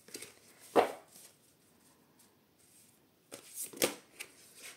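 A deck of cards is shuffled by hand in two quick bursts, close and crisp, separated by a quiet pause with faint handling noise.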